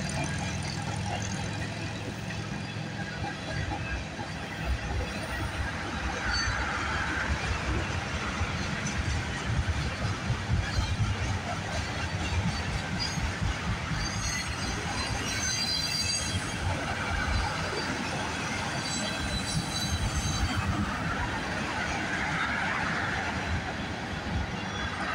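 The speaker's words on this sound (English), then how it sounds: "This is gonna be my last train in this video" A train rumbles steadily past on the rails, a continuous loud roar of wheels and clatter with faint squealing, lasting throughout with no talk.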